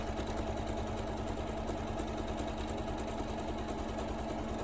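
A sewing machine running a decorative stitch on a fabric tool wrap gives a close, continuous mechanical whir with a fine rapid vibration, steady and unbroken throughout.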